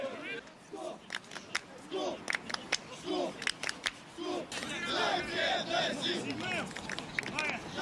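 Moscow and Pskov football fans chanting together at a Torpedo-ZIL versus Pskov-747 Russian league match, rhythmic crowd voices with sharp claps or snaps, close and loud.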